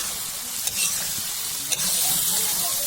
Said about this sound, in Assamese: মছলাখিনি ভাজি ল'লোঁ